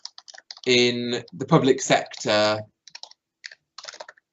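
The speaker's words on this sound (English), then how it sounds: "if you're typing your whole essay title in here" An essay title is typed on a computer keyboard into a search box, with light scattered key clicks under a voice and a few bursts of tapping in the pauses.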